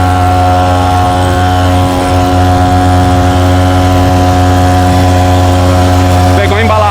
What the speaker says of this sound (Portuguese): vamos ver se o nosso motorzinho de roçadeira vai dar conta de subir pelo menos 3 metros naquele morro